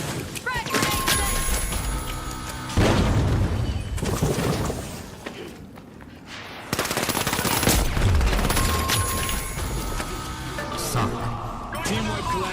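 Frag grenade blast and rapid gunfire in a video game shooter match, loud dense bursts of automatic fire that surge, drop briefly, then return, with an in-game voice over the din.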